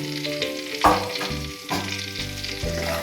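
Ground spices, including coriander and Kashmiri chili powder, fry in a pan for a Bengali koi fish dish, sizzling steadily up close while a spatula stirs in repeated strokes.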